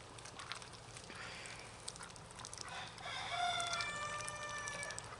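A farm rooster crows a long drawn-out call that swells in the second half, with soft clucking and outdoor background around it and no talk.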